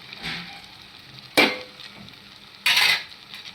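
Capsicum pieces and green peas go into a pan of tomato and onion for a curry. Two sharp bursts of sizzling and stirring stand out against a quieter frying background, near and alone.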